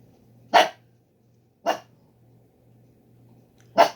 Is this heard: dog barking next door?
yes